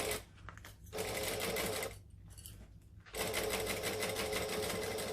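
A sewing machine stitching a zip-around wallet runs in steady bursts, a fast buzzing whir close by that stops twice for brief pauses before starting again.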